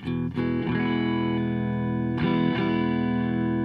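An electric guitar played through an amplifier with no reverb in a live studio workshop: strummed chords ring out warmly and sustain at even volume, with fresh strums near the start and again midway. No talking.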